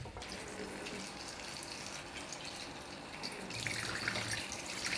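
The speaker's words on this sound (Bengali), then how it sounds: "আঙ্গুরগুলো ধুয়ে নিচ্ছে" Tap water runs steadily into a sink as grapes are washed, a continuous broadband rush that grows slightly louder and brighter near the end, with no talking over it.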